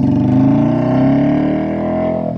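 A modified Royal Enfield Classic 350 motorcycle with an aftermarket exhaust pipe, cam and FuelX tuning revs up close and loud, its deep throbbing note rising steadily in pitch over a couple of seconds with no talking.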